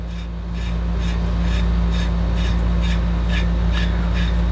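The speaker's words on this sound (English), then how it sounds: "that this cutter is cutting it and digging in. It'll cut it." A cutter digs into metal on a 110 Corvair engine, making a steady run of rasping, scraping strokes about once every half second, close up over a constant low hum.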